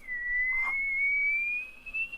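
A voice imitates the shrill whistle of a camping kettle as steam pressure builds: one long, steady, piercing tone that rises slightly in pitch, held for about two seconds, close and clear.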